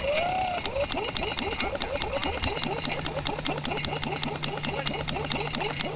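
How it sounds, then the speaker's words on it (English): Winch launch of a 1984 Firehawk model glider, with a fast, steady train of rhythmic mechanical clicks and whirring from the winch running throughout, fairly loud and continuous, with no talk. "Stand on the winch."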